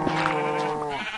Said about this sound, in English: Sheep spawning.